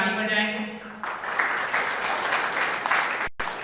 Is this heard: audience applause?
yes